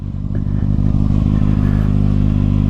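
A 2021 Kawasaki Ninja ZX-6R with an M4 Street Slayer slip-on exhaust idles and revs loudly up close, with a steady throbbing rumble.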